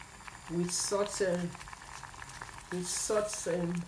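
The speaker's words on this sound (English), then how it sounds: "Let me show you the pepper is boiling, the onions" Pot of peppers and onions boiling for Congolese makayabu salt fish, a steady soft bubbling and patter close by, with voice-like murmurs rising over it in two short bursts.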